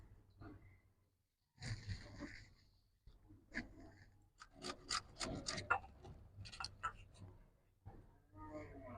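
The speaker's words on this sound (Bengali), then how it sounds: "এই যে মেশিন নিয়েছি মেশিনে আমি ঘষে নেবো" Watermelon flesh is rubbed against a hand grater while making watermelon ice cream, giving quiet, scratchy strokes in irregular bursts, close by, with soft speech in between.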